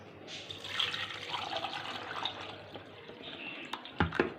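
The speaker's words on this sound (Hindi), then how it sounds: "अब इसके अंदर हम पानी शामिल करेंगे।" Water is poured into thickened cream that is being churned into butter, a steady liquid splashing and trickling that runs throughout, ending in a few louder drips and splashes.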